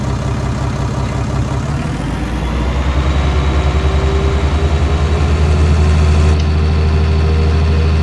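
A tractor engine idles steadily in a farming video game, a loud, continuous low rumble that holds even throughout with a faint tone rising slightly partway through.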